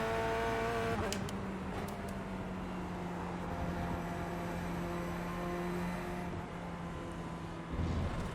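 Race car engine of a C8.R Corvette in iRacing, a steady loud drone with sustained harmonic tones throughout, a brief shift in pitch near the start and a drop near the end, no talk.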